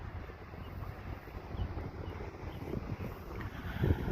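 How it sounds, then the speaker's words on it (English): Low, rumbling wind buffeting against the microphone, steady and fairly quiet with occasional louder gusts toward the end. "It's a little windy out, so if you hear that,"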